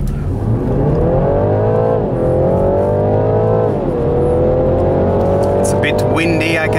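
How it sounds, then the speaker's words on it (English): A BMW G20 330e plug-in hybrid sedan engine revs hard and climbs steadily in pitch through the gears, loud and close, with wind noise and a brief shift midway. "The car is pulling strong"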